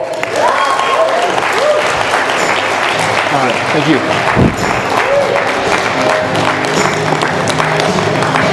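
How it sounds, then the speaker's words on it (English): Sustained audience applause fills a conference hall in Las Vegas as a keynote speaker takes the stage at a national franchise event, steady and loud throughout, with a voice briefly speaking over the clapping. "let's hear a round of applause for our keynote speaker"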